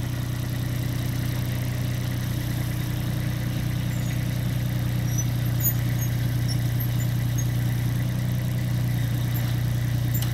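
A 2012 Ditch Witch JT5 directional drill runs steadily, a constant low engine drone with a mechanical hum throughout, close by and without talking.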